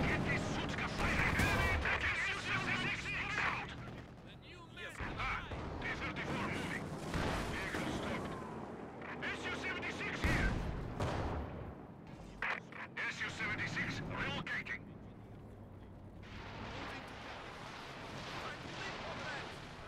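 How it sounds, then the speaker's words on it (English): A Sutka rocket artillery launcher fires in Company of Heroes 2 amid repeated heavy booms and rumbling battle noise, with shouted voices of soldiers mixed through the barrage. "Get this Sutka firing."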